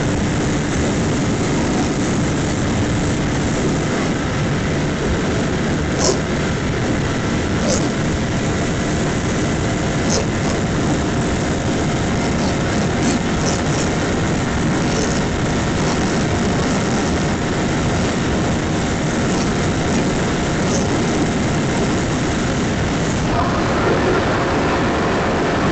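Bajaj Pulsar NS400Z motorcycle engine running on A19 firmware after throttle body calibration, a steady, loud roar with broad wind rush throughout, continuous and close with no talking.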